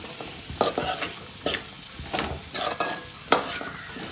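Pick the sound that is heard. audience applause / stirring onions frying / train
stirring onions frying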